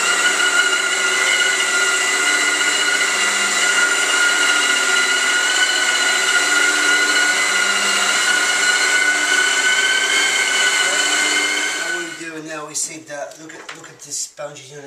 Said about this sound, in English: Right, now we're going to scrub the carpet.